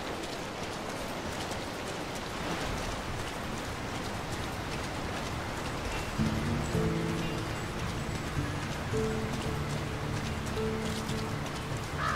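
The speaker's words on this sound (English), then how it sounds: "Who could live in a town where it's always raining?" Steady rain pours over a rainy town in the Lord of the Rings: War in the North game, a constant dense hiss with music swelling in partway through; no talking.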